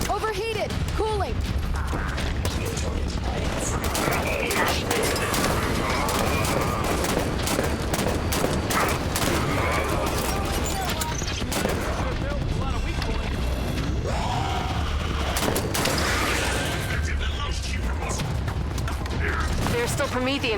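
Bursts of rapid turret fire keep going through a Halo game firefight with Prometheans, mixed with mechanical clanks and explosions as several voices talk over the din.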